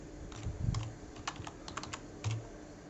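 A short burst of keystrokes on a computer keyboard, a handful of quick clicks in an uneven rhythm, close and fairly quiet with nobody speaking.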